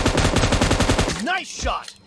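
Rapid automatic gunfire in the battle royale game PUBG Mobile, a loud burst of repeated shots for about a second, then a voice speaking briefly.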